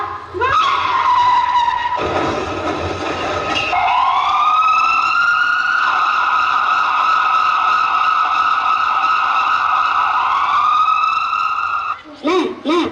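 An emergency vehicle's siren wails at close range during a staged school dance performance by seventh-grade students, holding a loud, sustained rising-and-falling tone with a brief break near the start and a sharp cut-off at the end.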